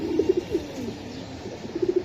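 Racing pigeons in a loft coo softly, a few low, rounded calls close by, clustered at the start and end over a steady background hum.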